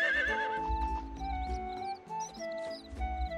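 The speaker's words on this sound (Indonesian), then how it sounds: "Awas kuda." In the video game The Winds of Anthos, a horse whinnies loudly and its hooves clip-clop in a quick rhythm, over steady game music with bright melodic notes.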